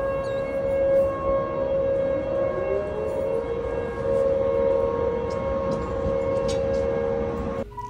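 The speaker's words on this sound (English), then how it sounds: "The tornado siren started going off." A tornado warning siren in Shipshewana, Indiana wails steadily for the whole stretch around midnight during a big storm, a long sustained tone that slowly shifts pitch as it rotates, loud and unbroken against rain and background noise.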